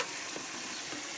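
Spices frying in a pan while cooking kochur loti (taro stolons), a steady soft sizzle and crackle heard up close with no talk.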